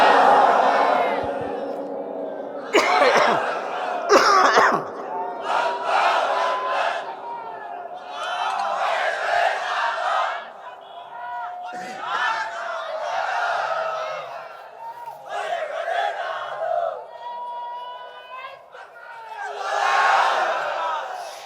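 Crowd at an outdoor Islamic waz sermon gathering in Kushtia shouting a takbir response in loud, rising waves of massed voices, with several sharp bursts and sustained roaring swells over the sermon.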